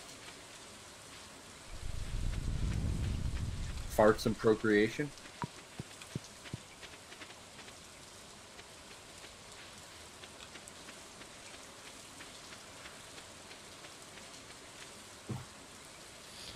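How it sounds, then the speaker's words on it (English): Rain falls steadily in the farming video game Stardew Valley, a soft hiss that lasts a few seconds. Players talk and laugh over it. "Yay, it's raining."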